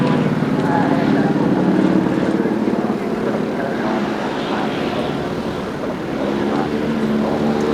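A Ford Escort race car drives through a braking zone at the Goodwood Festival of Speed, its engine a loud, near roar that eases off and drops in pitch before building again, with a faint voice over it.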